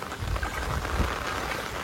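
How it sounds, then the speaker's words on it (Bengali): Heavy rain pours over freshly planted, flooded rice paddies, a dense, steady hiss with a low rumbling wash throughout. "এত বৃষ্টি।"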